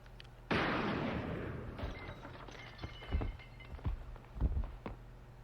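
A single gunshot goes off at close range, a sharp blast followed by a long decaying rumble, then a few dull thuds and faint shuffling.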